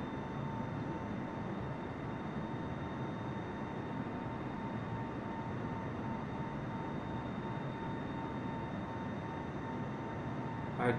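Airplane engine in the Microsoft Flight Simulator 2020 video game, a steady broadband drone with a faint tonal hum that holds unchanged throughout, alone with no talk.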